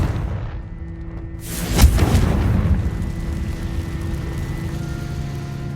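A Confringo spell explosion in Hogwarts Legacy on PS5 bursts as one loud, sharp blast with a booming low rumble, then decays into a lingering rumbling tail over steady game ambience.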